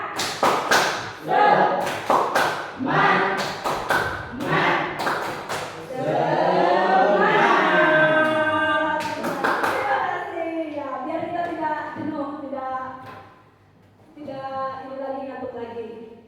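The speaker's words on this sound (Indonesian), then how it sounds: "Ayo tepuk semangat, ayo tepuk semangat" A group claps a quick rhythmic spirit-clap pattern in short bursts, with voices chanting along. The clapping stops and sung or chanted voices carry on alone, then pause and return.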